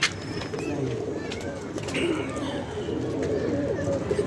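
Several pigeons in a loft coo together, soft and throaty, under a steady background murmur while people talk nearby.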